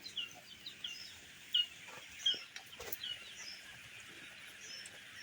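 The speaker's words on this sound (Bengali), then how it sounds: "এই পাশে আছে 10 দিন বয়সের কিছু পাখি" Ten-day-old chicks on a poultry farm give faint, scattered high peeps and soft chirps against a quiet background hum, with a few louder bursts.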